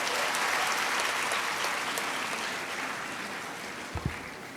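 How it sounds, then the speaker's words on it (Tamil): Steady, dense applause from an audience at a speech during the IFET Pravesh 2025 event, filling the clip at an even level before tapering slightly, with a couple of brief low thumps near the end. "அந்த நல்ல மனசுக்கு ஒரு பலத்தை கைத்தட்டல் கொடுங்க."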